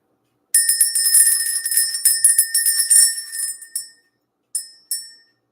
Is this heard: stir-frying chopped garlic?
no